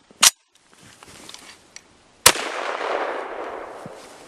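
An SKS rifle with ice formed on it fires at an outdoor range: a sharp single crack, then a second loud shot a couple of seconds later that rings out with a long fading echo.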